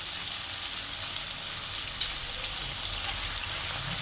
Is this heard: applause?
no